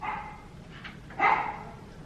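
An indoor dog, excited by someone arriving home, lets out a sharp, fairly close bark after a quieter yip, with a brief whimpering edge and no talk.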